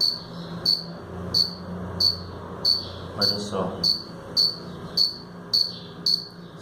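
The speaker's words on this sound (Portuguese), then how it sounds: "um grilo fazendo barulho." A cricket chirps by rubbing its wings together, giving a steady series of about twelve short, evenly spaced trills that stand out clearly over low background rumble, with a brief spoken remark in between.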